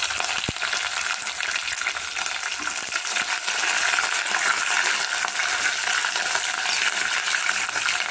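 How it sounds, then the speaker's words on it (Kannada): Chana dal, urad dal and green chillies fry in a pan for buttermilk steamed upma, making a continuous bright sizzle with one sharp metallic clink near the start. "ಇದೆಲ್ಲ ಸ್ವಲ್ಪ ಫ್ರೈ ಆಗಿ ಒಂದು 10 ಹಸಿಮೆಣಸಿನ್ಕಾಯಿ ಹಾಕ್ತಾಯಿದ್ದೀನಿ."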